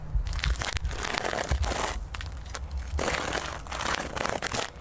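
Broken glass from the smashed rear window of a Kia crunches and crinkles in steady bursts, close and fairly loud, with brief pauses between scrapes and no talking.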